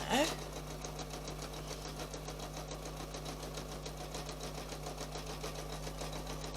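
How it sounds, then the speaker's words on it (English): A sewing machine runs a straight stitch, its needle chattering in a fast, even rhythm that stays steady and fairly quiet throughout after a brief bump at the start. "I'm just sewing with a straight stitch"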